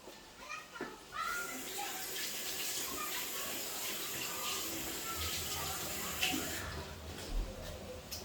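A spoon is rinsed under a running kitchen tap at the sink while a vegetable stir-fry cooks; water flows in a steady close stream, and faint voices murmur in the background.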